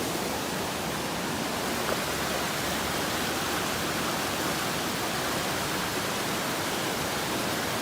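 Steady, dense roar of a waterfall in Vermont along the Appalachian Trail, a broad unbroken rush of falling water close by, with no voices.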